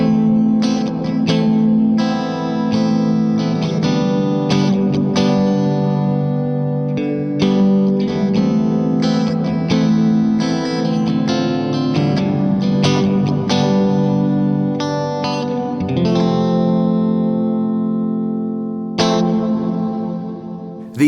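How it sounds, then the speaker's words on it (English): Guitar played through an effects pedal set as an atmospheric plate-style reverb with tone and time knobs turned fully down, sustained chords ringing with a dense wash of reverb, steady and loud throughout. "with the tone and the time knobs all the way down, it actually turns itself into a pretty tasty atmospheric plate kind of reverb"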